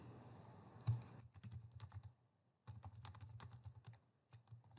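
Quick bursts of computer keyboard typing, close and crisp, separated by short silent gaps, as a new phrase is entered in a coding tutorial.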